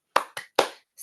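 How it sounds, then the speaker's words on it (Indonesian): A class doing a rhythmic spirit clap as an icebreaker before a lesson: three sharp, loud group claps in a quick uneven pattern, then the start of a fourth, with silence between. "mari kita tepuk semangat"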